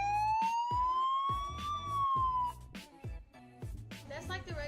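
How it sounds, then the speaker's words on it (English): A police motorcycle siren wails with a rising, sustained tone that then fades, accompanied by rhythmic thumping and a voice talking over it nearby. "That's a siren off of a motorcycle"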